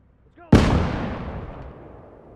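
A single grenade blast in a WWII combat video game, a sharp loud burst followed by a long rumbling decay, with a brief faint sound just before it.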